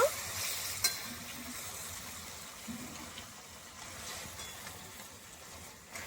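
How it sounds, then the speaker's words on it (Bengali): Fried fish is stirred together with ridge gourd in a pan, giving a soft, steady sizzle with occasional light knocks and scrapes, fairly quiet throughout. "এবার আমি এই ভেজে রাখা মাছগুলো সব দিয়ে দেবো। ঝিঙের সঙ্গে নেড়ে চেড়ে নেব।"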